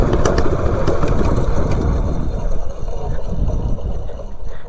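Mini bike engine runs flat out at top speed, a loud close rough roar with rushing wind that stays steady before easing slightly toward the end.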